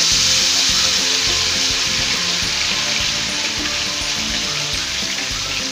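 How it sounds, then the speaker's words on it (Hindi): Ghevar batter poured in a thin steady stream into the centre of a hot kadhai of fat, producing a loud, continuous close-up frying sizzle with bubbling hiss and no talking. "कढ़ाई के बिल्कुल सेंटर में डालना है। इस तरह से धार बांधकर डालना है।"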